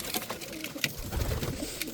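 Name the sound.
shamli pigeons cooing in rooftop loft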